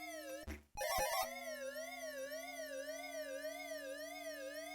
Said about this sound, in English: Only the siren sound effect's worth writing home about.